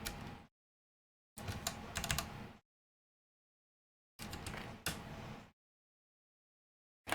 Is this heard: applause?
no